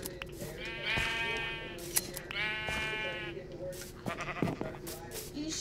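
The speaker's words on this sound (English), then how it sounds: "I'm gonna go shear them sheep." Sheep bleat in a farming video game, two long drawn-out bleats in the first half followed by shorter calls, with game background sounds underneath.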